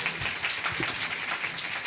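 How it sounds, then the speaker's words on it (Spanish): Applause from a church congregation during a sermon, a brief dense wash of clapping at steady level with no voices over it. "Señor, démosle un fuerte aplauso"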